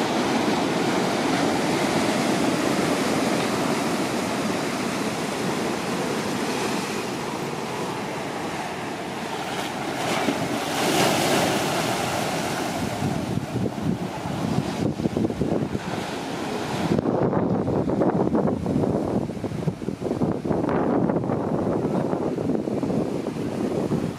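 Ocean waves at Waikiki Beach crash against a wall in a continuous, loud wash of surf mixed with wind buffeting the microphone, with a few heavier surges toward the end.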